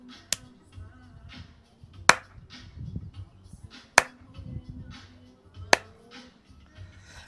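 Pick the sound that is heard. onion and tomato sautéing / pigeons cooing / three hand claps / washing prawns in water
three hand claps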